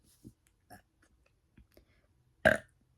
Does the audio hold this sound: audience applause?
no